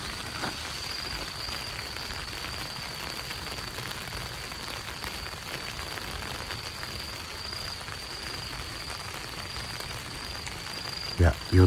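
Steady rain patters over a campsite in a resort hotel's garden, a continuous soft hiss of drops with a faint high insect-like tone, ending in a couple of close knocks.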